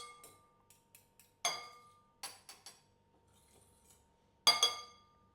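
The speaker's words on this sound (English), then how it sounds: "And just give that a quick mix." Tuna bean salad with celery seed being mixed quickly in a bowl, a series of light clinks and scraping taps of utensil against the dish, with a few louder clatters, close and without talk.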